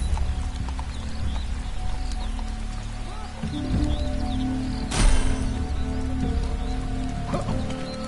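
Horse hooves clip-clopping in the Lego Marvel Super Heroes 2 video game, a steady rhythmic clatter of hoofbeats over ambient game background with bird calls and a sharp hit partway through.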